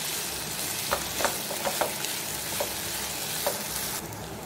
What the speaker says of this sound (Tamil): இப்போ நம்ம கட் பண்ணி வச்சுருக்க உருளைக்கிழங்கு போட்டுட்டு நல்லா கிளறி விட்டுருங்க.